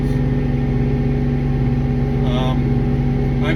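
A 2023 Kubota RTV X-1100C side-by-side drives along a road, its engine giving a steady mid-pitched hum with constant low rumble and a brief higher whine near the end.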